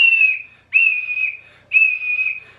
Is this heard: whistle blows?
yes